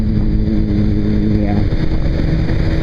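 Motorcycle engine running steadily at speed with constant wind rush, loud and close throughout, a person talking over it.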